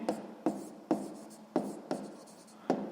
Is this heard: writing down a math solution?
yes